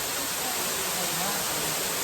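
A rainforest waterfall in Puerto Rico rushes as a dense, broad, steady roar that fills the whole moment, loud and close with no breaks.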